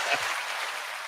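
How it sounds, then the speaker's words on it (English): A brief burst of applause used as a sound effect on a talk show, a dense, fairly faint patter of clapping lasting about a second. "And the crowd goes crazy"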